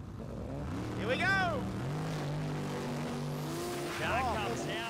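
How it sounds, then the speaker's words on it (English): A 10.5 Outlaws drag racing car launches off the line at Calder Park, a loud engine roar climbing sharply in pitch over about a second, then a second rising rev burst, heard from the stands with commentary talking over it. "Car comes out, launches beautifully, but then it starts to drag it in towards the side."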